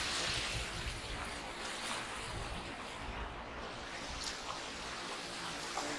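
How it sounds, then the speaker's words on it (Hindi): A freshwater canal flows beside a path near Buddha Rock in Skardu, Baltistan, giving a continuous full rushing wash of water with a breezy roar, steady and close throughout. "ये पानी का नहर है"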